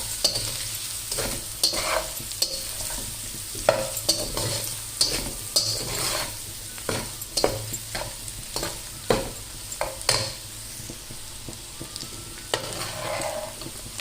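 Egg fried rice cooking with cumin and black pepper: a spatula scrapes and knocks against the pan in repeated irregular strokes over a constant close sizzle, with no voices throughout.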